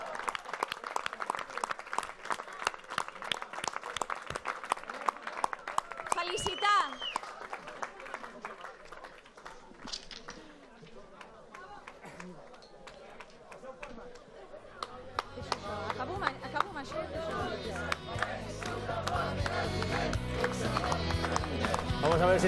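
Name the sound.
applause from party members at election headquarters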